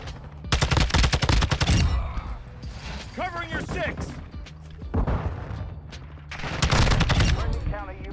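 Shotgun blasts and rapid gunfire in a Modern Warfare 2 online match, loud sharp bursts clustered at the start and again near the end, with a player talking excitedly over the shooting.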